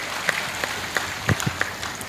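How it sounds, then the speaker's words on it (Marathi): Scattered applause from a crowd at a spiritual satsang gathering, a few sparse claps spread out rather than a full ovation, fairly quiet and distant with no talk over it. "जर टाळी वाजून आबासाहेब सर अभिनंदन करी."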